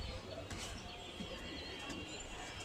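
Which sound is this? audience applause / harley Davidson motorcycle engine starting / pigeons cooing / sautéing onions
pigeons cooing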